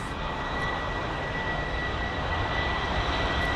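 Airbus A320 arriving at London Heathrow on a windy day, a steady broad engine roar with a faint high whine, constant and unbroken, no voices.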